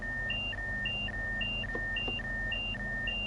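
In a Train Sim World 3 cab, a two-tone warning beeper repeats without pause, high and low notes trading places at a steady rhythm over the engine's low hum. Faint clicks sound in the middle, and there is no speech.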